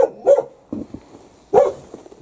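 A dog barks at a stranger, giving a few sharp, close barks spaced out over a couple of seconds, with short yips and quieter gaps between them.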